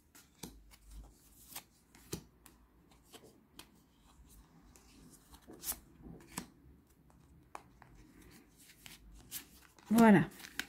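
Tarot cards being shuffled for a pyramid spread, soft repeated riffling and card taps close by under someone speaking French, ending with a brief louder rustle.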